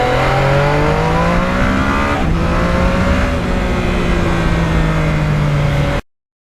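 A 2020 Yamaha MT-09 motorcycle is ridden through farm country. Its engine holds a loud, steady droning tone that sags slightly in pitch mid-way, then the sound cuts off abruptly.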